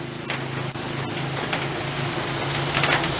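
Rain falls steadily outdoors at a fishing spot, a dense, even patter with scattered sharper drops and faint crackles throughout, no voices.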